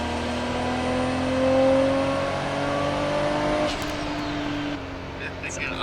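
A modified 1995 Nissan Skyline R33 GT-R six-cylinder pulling hard from inside the cabin, its engine note and turbo climbing steadily in pitch under load before easing off, loud and close.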